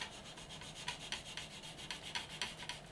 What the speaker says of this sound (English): just let the sander rock across the surface